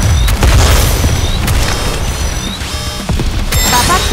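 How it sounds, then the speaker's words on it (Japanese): Bombing explosions in the mobile shooter NIKKE: loud, dense booms and crashing blasts pile up continuously with scattered sharp impacts, forming a sustained barrage that holds strong throughout. "前方に向け爆撃開始。"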